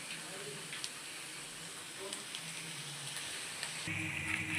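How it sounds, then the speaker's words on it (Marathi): Chopped onion fries in a pan for a Satara-style cowpea curry, a steady soft sizzle with faint crackles, partly masked by a voice talking over it. "आता आपला हा कांदा छान भाजत आहे"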